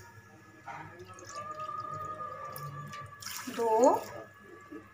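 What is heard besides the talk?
water poured from a bowl into a pan for sugar syrup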